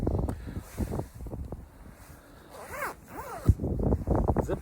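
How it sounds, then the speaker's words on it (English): A Helikon Tex Wolfhound jacket is zipped up outdoors, several rising zip strokes close to the microphone against a backdrop of wind noise. "Zips nicely up."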